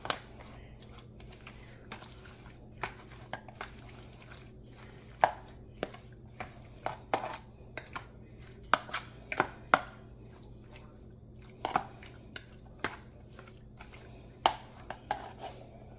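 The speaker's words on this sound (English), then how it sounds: "a big fork works better for this, and we're just gonna get everything evenly marinated and coated." Pork is tossed through a red curry marinade in a bowl with a big fork, giving irregular sharp clicks and wet taps close up over a low steady hum, with no talking.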